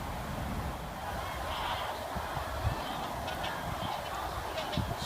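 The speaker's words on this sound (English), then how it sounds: "Swans are flying south, I suppose." Swans flying overhead outdoors near an old fort's earthen wall, with repeated honking calls amid wind and ambient noise, fairly distant and mixed with faint background voices.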